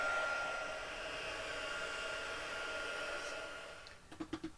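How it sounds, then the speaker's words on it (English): A heat gun blows a steady, close hiss of hot air to dry stamping ink on a craft project, then clicks off with a few soft taps at the end. "we're going to give this a little blast with a heat gun because I want it to dry"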